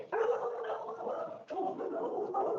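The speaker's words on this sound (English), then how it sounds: "Is that somebody's dog? Sounds like that." A dog barks and yips somewhere near a committee meeting, a rough, slightly gargling bark in two short stretches with a brief break between.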